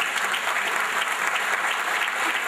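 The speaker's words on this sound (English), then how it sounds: "I was very excited when I was seeing the students clap whenever they heard the name of Professor Sivaram Krishnanji." Students at a valedictory function break into loud, continuous applause, a thick wall of clapping from a large crowd with no pauses.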